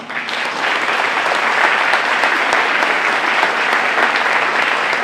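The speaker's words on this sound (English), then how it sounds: "I really want all the athletes that are in here to give your coaches a big round of applause, please." Athletes in an awards ceremony audience applauding their coaches, a loud, dense and continuous round of clapping that swells quickly and holds steady throughout.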